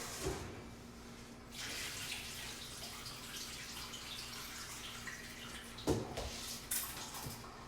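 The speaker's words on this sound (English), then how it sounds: "Make sure that you rinse at least 3 times. And then really wash it." Tap water runs steadily while dry beans are rinsed and washed by hand in a kitchen, with a couple of brief splashy knocks near the end; no one speaks.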